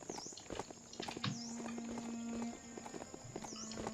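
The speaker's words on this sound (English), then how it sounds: "a gente tá com esse cavalo de madeira agora aqui" Hooves of a wooden horse mount clip-clop at a steady walking pace in Biomutant, close and clear, alongside game music and a sustained tone.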